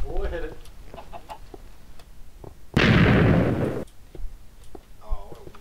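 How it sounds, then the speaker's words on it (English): A weak explosion in a video game: one short, loud burst of noise that fades within about a second, set between bits of a player's talk. "Oh, what a weak explosion."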